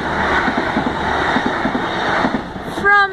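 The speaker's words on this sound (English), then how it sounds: "Oh, I can hear that train" A train passes a level crossing on the Scarborough to York line, a steady rumble of wheels with rhythmic clacks over the rails, close and fairly loud, ending with a tonal whine as the barriers move.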